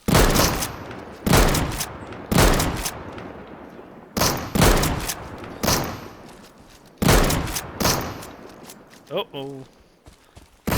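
Gunfire in Deadside rings out as loud, spaced single shots, roughly one to two seconds apart, each with a trailing echo, and a voice speaks briefly near the end.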